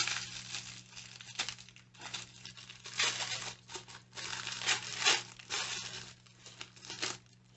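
Crinkly wrapping on small Mint Mongoose pieces is twisted open and pulled away, making bursts of close crumpling and tearing rustle in uneven clusters, with quiet pauses between handfuls and no talking.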